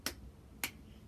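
Two sharp, crisp hand claps about half a second apart in a children's spelling song game, quiet and close with a faint room background between them.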